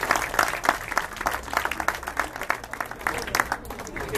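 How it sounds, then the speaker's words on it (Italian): Audience applause at an Italian gathering with a young football referee, a moderate burst of clapping from a small crowd that continues unevenly throughout. "Quindi un applauso ancora a tutti loro."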